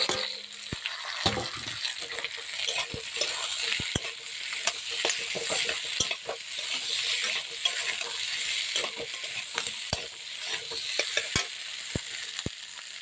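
Potatoes are stirred and fried in a pan, with a continuous close sizzle under repeated sharp scrapes and taps of a spatula against the metal at an irregular rhythm.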